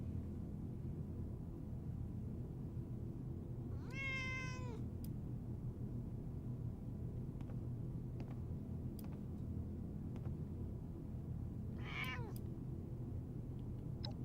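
A cat meows twice in the game Fallout 76, a rising drawn-out call early and a shorter one later, both faint over a low steady background rumble.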